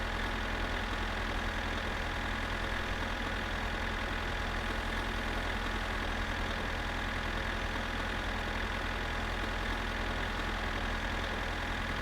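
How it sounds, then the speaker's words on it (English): A video-game tractor engine runs with the rumble of a train on the track blended into it, a continuous, even drone with no speech and no change in level. "he overlaid just slightly the sounds of the train on the track into the sound of the tractor at all times"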